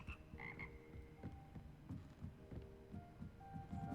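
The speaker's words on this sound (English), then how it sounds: "It's a choir of frogs." Frogs croak as a layered chorus in a Hogwarts Legacy castle room, with deep pulsing calls repeating over a faint musical hum and no voices.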